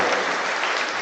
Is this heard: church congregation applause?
yes